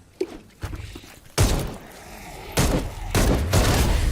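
Gunfire in the zombie video game Dead Island 2 comes as several loud, close bursts of shots separated by short quiet gaps, with no talking.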